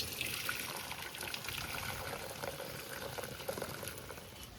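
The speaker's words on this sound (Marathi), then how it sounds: "अशी चाळण घ्यायची ही बघा आणि चाळणीत आपल्याला हे गाळून घ्यायची भाजी. असं हे पाणी ओतायचं." Cooking water from wild Konkan greens, boiled for five minutes, poured off through a strainer. A steady, continuous hiss of splashing and draining water runs throughout without talk.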